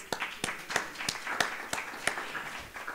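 Sparse clapping from a small audience at a hemp research conference, distinct individual claps in a loose, roughly regular rhythm, faint and somewhat distant.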